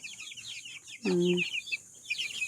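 Backyard chickens and young chicks clucking nearby, with high chick peeps scattered throughout and a louder, fuller cluck in the middle.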